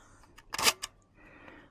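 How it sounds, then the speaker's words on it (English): A Primarflex II camera shutter fires once, a brief mechanical clack with a couple of small clicks around it, fairly close in a quiet room; the shutter's second curtain closes a bit slowly. "That second shutter's closing a bit slowly."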